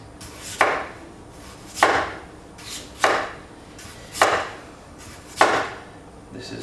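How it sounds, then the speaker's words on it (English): A knife cuts potatoes into discs on a board with five evenly spaced, crisp chopping strokes roughly a second apart, each a sharp thud against quiet kitchen background. "So all you do is just cut this up as well as you can into nice discs."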